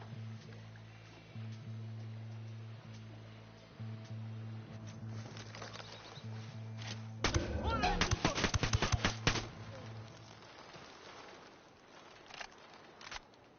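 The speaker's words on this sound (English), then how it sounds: "Opening fire." A short cluster of rapid shots rings out in the Ghost Recon Wildlands game over a steady low engine drone, then fades back to the hum.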